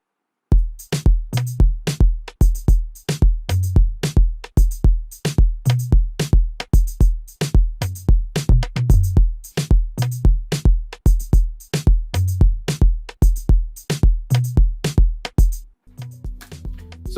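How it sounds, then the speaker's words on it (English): Afrobeat drum loop with tambourine, punchy kicks and snappy hits repeating in a steady, syncopated groove, loud and close for about sixteen seconds before cutting off, with no talk. "Let's listen to the whole drums, including the tambourine."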